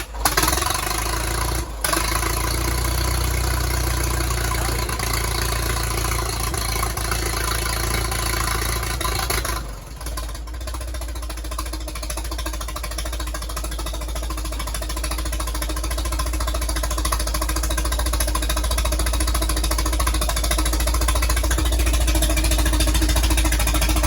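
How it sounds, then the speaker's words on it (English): An old 18-28 tractor engine runs steadily after a crank start, a loud, close, continuous low rumble with a constant droning hum and a brief dip partway through, and no one speaking. "So I wanted to give that old tractor a short run here."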